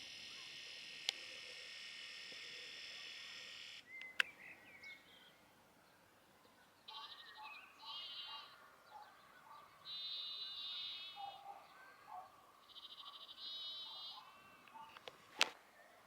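Sheep bleating faintly in the distance on the shore beside an old lighthouse, several short calls spaced apart over a quiet background with a steady insect-like hiss.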